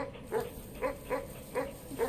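Dog barking and growling in the video game Animal Well: five short, evenly spaced barks ring out over a steady low game background, each a brief mid-pitched yap.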